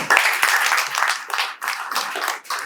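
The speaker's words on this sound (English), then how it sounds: "Give a round of applause to the guest of honor." Brief bursts of clapping from an audience at a school handover ceremony, honoring the guest of honor, uneven and close, with some murmuring mixed in.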